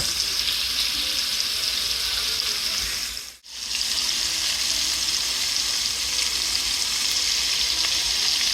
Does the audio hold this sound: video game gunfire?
no